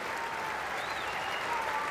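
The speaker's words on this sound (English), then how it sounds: "the crowd really enjoying Ricky Ponting's innings" A cricket crowd at a Test match in Brisbane applauds Ricky Ponting's innings with steady, sustained clapping that hums on without pause at a moderate distance.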